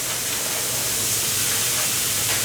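Frozen onions hit a hot pan of ground beef, giving a loud, steady, hissing sizzle that runs without a break for a couple of seconds, with no talking.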